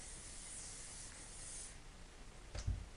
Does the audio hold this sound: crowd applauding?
no